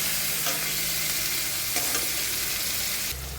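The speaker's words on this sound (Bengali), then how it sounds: "পেঁয়াজটা হালকা ভাজা হবে," Onions and garlic fry and sizzle in a pan while being stirred, a steady close hiss broken by occasional scrapes of a utensil, with no voices.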